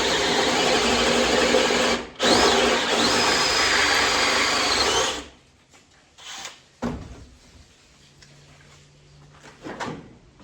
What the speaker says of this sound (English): So I'm just going to drill it out.